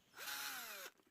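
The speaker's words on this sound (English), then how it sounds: "You will want to continue checking these tabs periodically on each cell that you're drilling." A power drill bores into a battery cell in one short burst of just under a second, a close, loud whine that rises at the start and drops as it cuts off.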